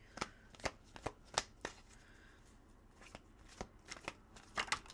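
Tarot cards being shuffled for a finance reading, giving a run of crisp riffling bursts and soft slaps spaced irregularly across the clip, close and clear with no talking.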